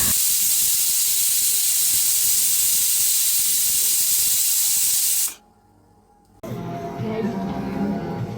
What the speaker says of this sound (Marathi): आता मी कुकरला लावला आहे शिट्टी करण्यासाठी